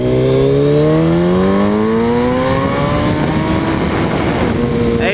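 Suzuki Hayabusa motorcycle revving hard in first gear, its engine note climbing steadily in pitch as it accelerates, loud and close with wind rush and no clear talk.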